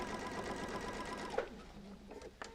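Sewing machine stitching quilt sashing strips onto a row of quilt blocks, a steady close whirring run that stops about halfway, followed by quieter handling sounds.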